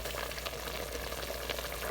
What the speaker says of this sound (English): have the beef, and it's right now simmering in its own juices.